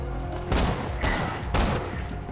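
Bursts of automatic gunfire from a fully automatic spin-barrel pistol in the Borderlands 2 video game. Three loud, dense volleys arrive about half a second apart, each one sharp and crackling, set over a steady game background.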